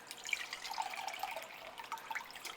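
Juice from a 1-pound can of pineapple trickles and dribbles into a clean measuring cup in an irregular, faint stream of splashes and drips, with no talking.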